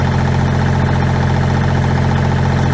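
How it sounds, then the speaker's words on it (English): A 1986 Kubota L2550 tractor engine runs at high idle, a loud, steady, close diesel drone with a constant low hum and no talk. "tractor is running at a high idle."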